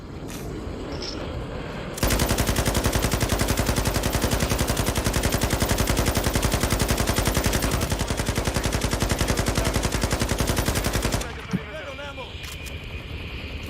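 Long sustained burst of rapid machine gun fire in a first-person shooter video game, loud and close, continuous for about nine seconds, with quieter game ambience before and after.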